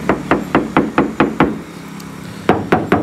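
Knuckle knocks on a thin Hyundai Stargazer body panel give a tinny, hollow sound. A quick run of about seven evenly spaced raps is followed by a short pause and three more, all close-up with no talking.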